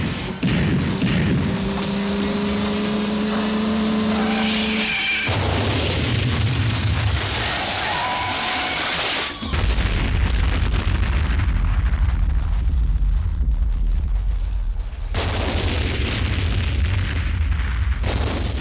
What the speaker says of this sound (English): How about that explosion?